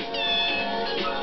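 A rescue cat gives a single drawn-out meow, loud and very close, lasting about a second with a rising then falling pitch.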